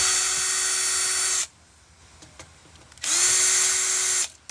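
Impact driver loosening screws on a vintage HP server, two loud sustained whirring bursts of about a second and a half each, separated by a short quiet gap with faint handling clicks.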